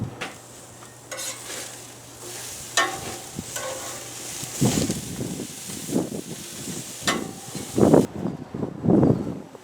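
Gluten-free burgers frying in a pan, a steady close sizzle and hiss with occasional scraping and stirring clatter of a utensil against the pan, no talking.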